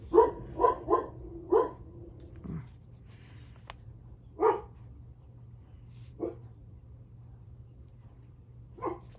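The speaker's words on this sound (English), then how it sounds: "Sorry about the dog in the background." A dog barks in short bursts nearby, a quick cluster at first and then scattered single barks, over a quiet low hum.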